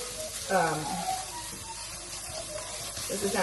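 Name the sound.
frying plant-based beef in an oiled pan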